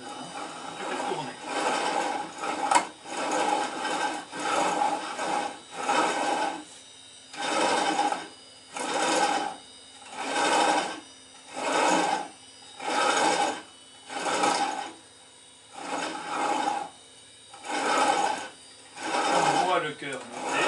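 A hand-turned rope-making device twists coloured cords in a steady cycle of rhythmic whirring pulses, about one each second, with a close, mechanical ratcheting tone and a voice speaking over it.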